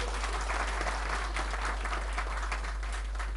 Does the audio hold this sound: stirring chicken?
no